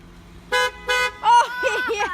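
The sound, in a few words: car horns honking at prank sign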